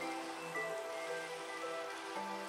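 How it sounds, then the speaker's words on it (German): Steady rain falls in the Minecraft game world, a soft continuous patter heard at a low, even level, with faint game tones drifting over it and no talk. "Ich hoffe, es ist nur Regen und kein Gewitter."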